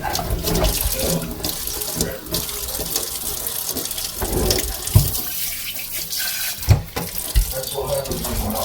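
Tap water runs steadily while rock tumbler stones are rinsed in a sink. The close, splashing stream has a few brief knocks and surges, and faint talk is heard partway through.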